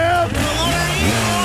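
A dirt bike engine at a hillclimb revs loudly and close, its pitch rising and wavering over about a second and a half, a rough note under brief crowd voices.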